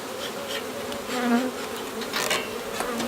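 Honeybees swarming around an open brood hive during inspection, a dense continuous buzzing with individual bees droning louder as they pass near, no voices.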